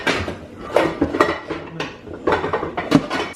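A cooking pot is pulled out from among other cookware, producing a close series of metallic clanks, clatters and clinks in irregular bursts, with no talking.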